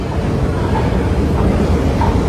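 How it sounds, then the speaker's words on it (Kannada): An underground metro train in a Chinese subway rumbles loudly and close by, a dense, steady low roar that holds unbroken for a couple of seconds. "ನಾನು ಇವಾಗ ಮೆಟ್ರೋ ಇದು ಅಂಡರ್ ಗ್ರೌಂಡ್ ಸಬ್ವೆ ಚೈನಾದಲ್ಲಿ"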